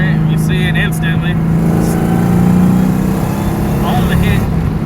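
Kenne Bell supercharged 1998 Mustang Cobra engine pulling under load, a loud sustained drone that swells and eases, with someone talking over it.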